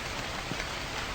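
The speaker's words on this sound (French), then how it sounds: "Là, il y a encore de la pluie." Rain in The Convenience Store horror video game, a steady dense patter of drops on a surface with no pauses, heard alone at moderate level.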